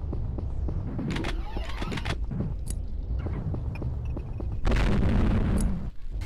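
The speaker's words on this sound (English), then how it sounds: "now shoot the dummies" Guns fire at training dummies in the shooting-range mode of the game Payback 2, with sharp repeated shots and booms followed by a louder, denser burst of firing near the end.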